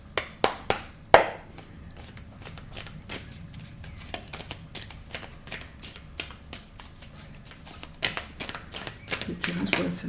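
Victorian Tarot cards are shuffled for a reading, starting with a few loud riffled snaps and then a long run of quick, soft card flicks, close up, while a voice talks over parts of it.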